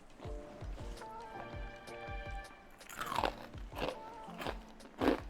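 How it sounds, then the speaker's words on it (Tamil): Crisp fried pakoda bitten and chewed close up, a run of sharp crunches and crackles in quick succession with louder bites near the end, no speech. "கிறிஸ்பினஸ் சவுண்ட் எனக்கு வரைக்கும் கேட்குது"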